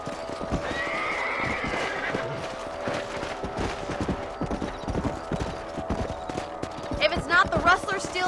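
Horses neighing and whinnying with steady clip-clopping hooves on a ranch in the Red Dead Redemption video game, the hoofbeats running throughout while someone talks over them.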